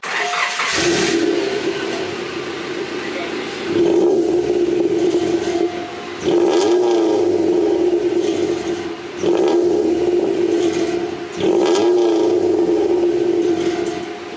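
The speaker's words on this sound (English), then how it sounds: "this is the bad muffler, the old muffler that has the baffle just roaming around in there. It makes this very annoying sound." Loose baffle rattling inside the old muffler of a Honda wagon, a harsh metallic buzz over the engine that repeats in four loud bursts as it is revved, with short quieter gaps between.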